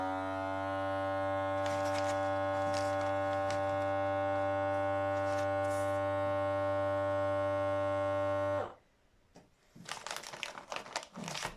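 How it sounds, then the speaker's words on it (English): A vacuum sealer pressing plastic over its air chute runs with a steady loud motor hum and buzz for about eight and a half seconds, then cuts off abruptly, followed by quiet plastic rustling and handling noises. "Close the doors and press the vacuum."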